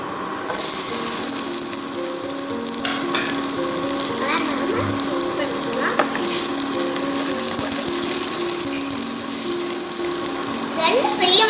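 Chopped onions sizzle and crackle steadily in hot oil in a pan on the stove, a close, continuous frying hiss with faint stirring clinks throughout.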